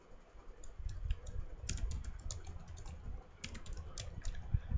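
Someone types code on a computer keyboard, with quick irregular clicking keystrokes in short bursts, close and fairly quiet, over faint low room noise.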